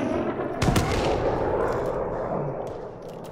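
Gunfire in a shooter video game, a team deathmatch: a sharp close shot followed by dense, rumbling distant fire and explosions underneath.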